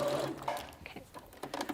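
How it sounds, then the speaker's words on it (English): Sewing machine running while stitching a quilted bag, a short close mechanical whirr with uneven bursts over about two seconds. "there's a nice sort of run using your sewing machine, and it saves a little bit of time"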